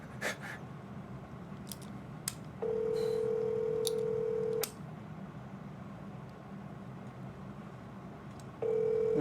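A phone line gives a steady dial tone in two long held stretches over a hissy room background, broken by sharp clicks and taps between them.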